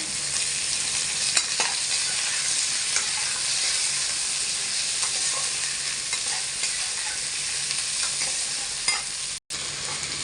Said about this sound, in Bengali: আলু, কচু, পেঁয়াজ, কাঁচা লঙ্কা সব ভাজা ভাজা হয়ে গেছে